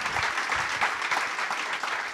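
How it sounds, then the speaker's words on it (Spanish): Audience applause for panelists at the close of a test automation panel at a conference, steady dense clapping from a room of listeners, moderately loud and continuous without speech. "Les pido un aplauso entonces a los panelistas"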